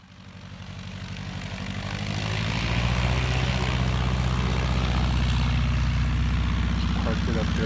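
Piper Cub light airplane taxiing uphill across grass on a home property, its propeller engine loud and close, building to a steady droning roar that holds to the end.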